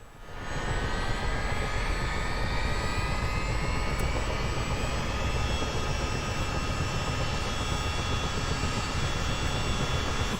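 Twin engines of a US Army Chinook helicopter in Microsoft Flight Simulator roar steadily and loudly after start-up, a dense turbine whine with rising tones layered over a constant low rumble.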